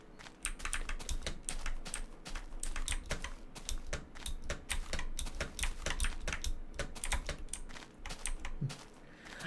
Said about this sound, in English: I'm going to type on it.